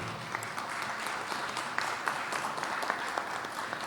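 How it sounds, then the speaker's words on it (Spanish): Audience applause at a regional political forum in Tarija, steady moderate clapping from a modest crowd, slightly distant and even. "Una vez más, el aplauso para José Luis Porcel."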